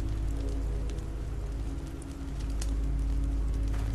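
Steady rain falling outside in The Walking Dead Season 2 video game, a continuous wash of drops with a low rumble underneath, no voices.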